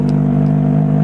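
A Kawasaki ZX25R motorcycle engine holds a loud, steady high-pitched rev up close, a continuous buzzing drone with no pauses.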